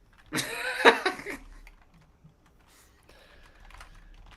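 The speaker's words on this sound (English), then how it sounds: "What are you typing, Pat?" Keys clatter on a computer keyboard during a fantasy football podcast, a loud, dense burst of quick typing in the first second that quickly fades into faint, sparse taps and quiet room noise.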